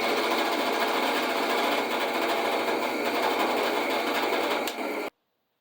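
A plug cutter drilling wood plugs from a board gives a loud, steady motorized whine with a rough grinding edge, running unbroken for about five seconds before cutting off abruptly into silence.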